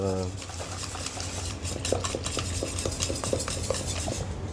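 A utensil stirs apple cake batter sweetened with fructose in a bowl, making soft rhythmic scrapes and light clinks that are close and moderately loud, with no clear speech.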